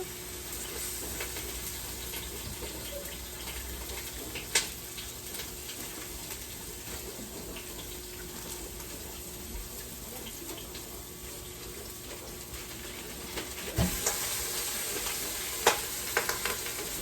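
Garlic fries in a quick cooker that gets very hot, giving off a steady, broad hiss and crackle of sizzling throughout, close and fairly loud, with a few sharper pops and clatters.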